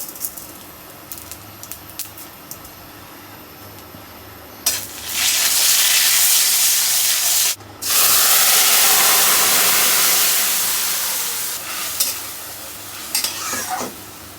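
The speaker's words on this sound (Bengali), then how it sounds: "সরিষার তেলে 5 ফোড়ন" Bengali five-spice tempering hits hot mustard oil and erupts into a loud, close, roaring sizzle that dips briefly, surges again and slowly fades, after quieter ticking and crackling with no talk.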